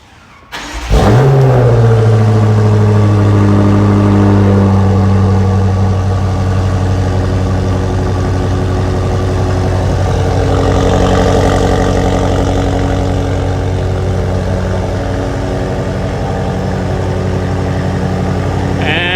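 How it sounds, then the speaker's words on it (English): A 2021 BMW X6 M Competition engine fires up by remote start after a second of quiet, briefly revs, then settles into a loud, steady cold idle that hums on for a long stretch. "I'm gonna use the remote engine start to do it"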